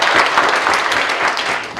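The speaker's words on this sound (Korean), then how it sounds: "우리 모두 건강을 위해서 박수 치면서 오늘 여기 세미나 마치도록 하겠습니다." Audience applause closing a disability welfare seminar and debate in Gyeonggi Province, a dense, steady wash of many hands clapping throughout, fairly loud and without talk.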